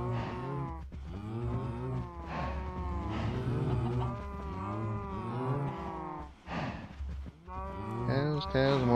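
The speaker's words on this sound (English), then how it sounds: "Cows, cows, more cows." Several cows moo over and over in the Minecraft modpack Foolcraft, long overlapping lowing calls that sound loud and close, with only brief pauses between them.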